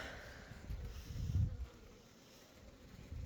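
Honeybees on a hive frame from a nucleus colony buzz softly at close range, a low droning hum that swells briefly midway and then fades, with no talking.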